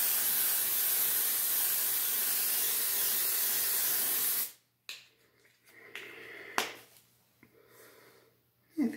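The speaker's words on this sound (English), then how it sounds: "I'm going to spray a little, see if it calms it down." Dry shampoo aerosol sprayed onto a hair topper, a steady close hiss lasting several seconds that cuts off abruptly, followed by quiet handling rustles and small clicks.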